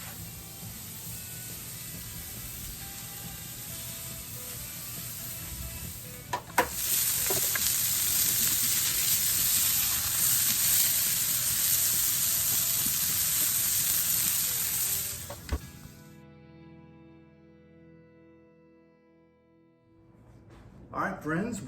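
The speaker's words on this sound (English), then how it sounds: "Nothing like hearing that sizzle." Loud, steady sizzling of BBQ bacon Juicy Lucy hamburgers frying on a hot grill, with a clank partway through; the hiss cuts off abruptly near the end, leaving quiet.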